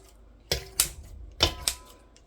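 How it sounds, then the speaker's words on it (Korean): Kitchen scissors snip through dried pollock in four sharp, close cuts spaced in pairs, each a crisp crunchy snap. "자, 그래서 가위로 이걸 잘라주도록 하겠습니다."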